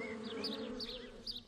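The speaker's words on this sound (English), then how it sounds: "There are 5 bees. They make honey in their hives." Several honey bees buzz in a short, steady hum with a few rising and falling whines, moderately quiet and heard alone without talk.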